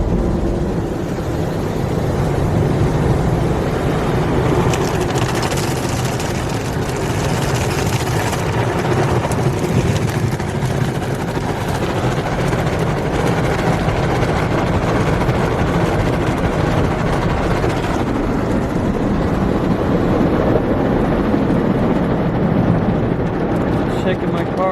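Ryko SoftGloss Maxx 5 automatic car wash at a 7-Eleven in Plano, Texas, heard from inside the car as it shakes. A continuous loud rumbling wash roar is joined by sweeping brush and water noise.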